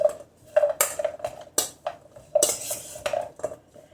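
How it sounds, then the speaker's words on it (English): Pickle vegetables for Armenian tourshi being mixed with a metal utensil, giving a run of irregular clinks and scrapes against the container, close and fairly loud, with no talking. "So I'm going to mix this up a little bit."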